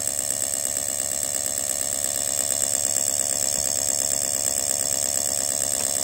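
A race car engine fitted with a TBI distributor runs steadily nearby, giving an even, rapid mechanical chatter with a constant high whine and no voices.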